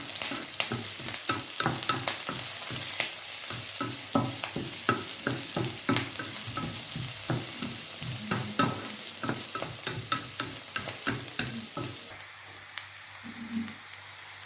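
Onions sautéing with cloves in a pan, a steady sizzle broken by frequent scraping stirs of a spoon, close and fairly loud throughout, with no talking.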